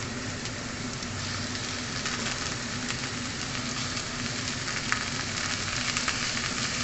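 Carrots and potatoes sizzling in a pot with olive oil for a lentil and spinach dish, a steady close frying hiss with faint crackles that runs continuously and carries no talk.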